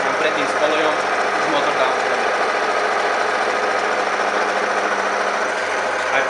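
An engine treated with METABOND GOLD runs under load with a constant, loud mechanical drone and rattle that stays even throughout.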